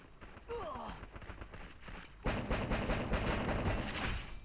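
Gunfire in a mobile battle-royale shooter game, a dense rattling burst of rapid shots that continues steadily over several seconds, loud and up close, with a person's voice briefly audible early on.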